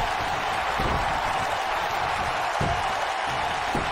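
A continuous roar of a large wrestling arena crowd in WWE 2K19, dense and steady, with occasional swells of cheering and no clear individual voices.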